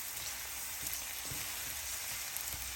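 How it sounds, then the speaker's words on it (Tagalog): Onions sautéing in a pan for a simple vegetarian potato curry, giving off a steady, soft broadband sizzle and crackle close by, with faint scattered pops and no talking. "igisa ng ilang minuto hanggang mag-translucent yung sibuyas"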